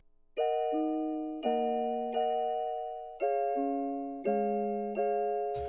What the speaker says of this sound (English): the first 8 bars is just kind of like a bell melody